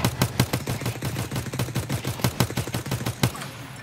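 Rapid bursts of automatic gunfire from an Escape from Tarkov firefight, loud and close, with sharp repeated cracks in quick uneven volleys before stopping abruptly.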